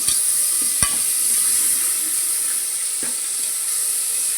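Steady loud sizzling hiss of sliced ripe tomatoes frying in a hot pan for a vegetable salna curry, with a few sharp clinks and stirring sounds near the start.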